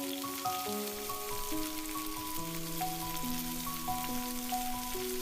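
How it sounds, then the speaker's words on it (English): Cubed chicken breast sears in hot olive oil in a pan, giving a steady bright sizzle that runs throughout beneath a prominent melodic music track. "Heat 2 tablespoons glossy olive oil and sear 16 ounces of juicy cubed chicken breast"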